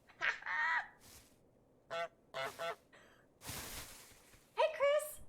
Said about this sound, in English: Press Y to honk.